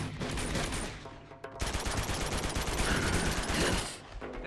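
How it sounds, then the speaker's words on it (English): Sustained gunfire in the action game Uncharted 2 during a fight, dense overlapping shots and impacts filling the whole stretch at close, loud range, with no talking. "Just keep shooting"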